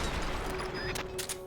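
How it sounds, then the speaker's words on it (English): Gunfire in the video game Metal Gear Solid Peace Walker: a brief, fairly faint burst of shots with a couple of sharp cracks over a steady game background. "We're being shot at!"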